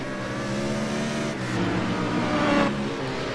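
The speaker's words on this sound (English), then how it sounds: "I can actually hear the car." A race car engine in a racing video game drones steadily throughout, with a slight rise in pitch and loudness near the end, as if accelerating, alone with no talk.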